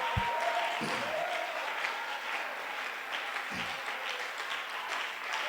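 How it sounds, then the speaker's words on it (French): A church congregation claps in praise during a worship service, a steady broad wash of applause filling the whole clip with a few brief voices rising over it. "Est-ce qu'on peut donner une grande main d'acclamation au Seigneur?"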